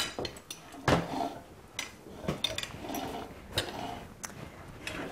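A pot of food is set back down on a kitchen stove, giving a soft metallic clunk and a few light clinks and taps, close and quiet against a faint background.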